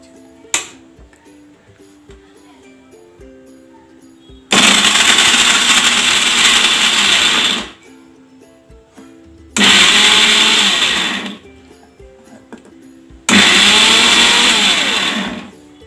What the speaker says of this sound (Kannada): ಮಿಕ್ಸಿ ಜಾರ್ಗೆ ಹಾಕ್ಬಿಟ್ಟು ಒಂದು 3 ಟೈಮ್ಸ್ ಬಿಟ್ಟು ಬಿಟ್ಟು ಗ್ರೈಂಡ್ ಮಾಡಬೇಕು,